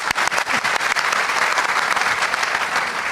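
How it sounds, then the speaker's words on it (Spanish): A church congregation applauds in a steady, dense burst of clapping that fills the room, loud and continuous with no speech. "Un aplauso para el hermano."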